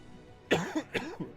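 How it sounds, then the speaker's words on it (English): Two quick coughs from a lingering cough, close but fairly soft, followed by a small throat sound against a quiet background. "You'd think this cough would be gone already."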